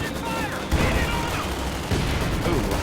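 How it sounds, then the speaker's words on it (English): Mortar shell impact in a wartime strategy game battle, a sharp explosive burst amid a dense clatter of rapid gunfire, with a commentator's voice partly over it. "nice mortar hit"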